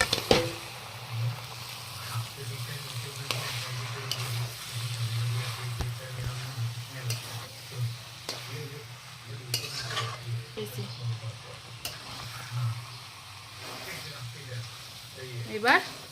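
Onions and garlic fry in a pan for a jackfruit curry while a utensil stirs them, giving a steady sizzle with scraping under it. A voice talks over the cooking throughout.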